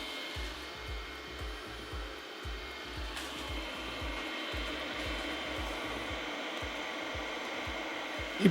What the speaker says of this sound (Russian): Теперь включаем магнитную мешалку.